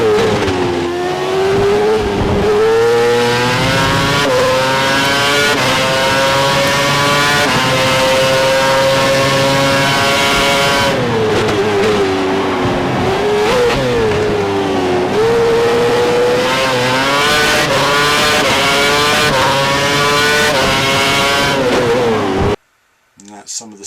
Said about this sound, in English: Some of the sound from F1 2011.